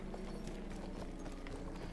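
Horse hooves gallop in Battlefield 1, a steady clip-clop rhythm of soft repeated thuds moving over rough hilly terrain beneath a constant wash of game ambience.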